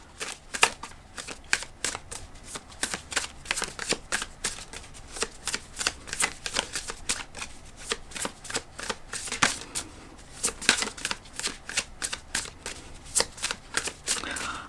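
Tarot cards are shuffled in quick, crisp riffles close by, a rapid run of papery flicks with brief pauses, steady and fairly quiet, with little or no talk over it.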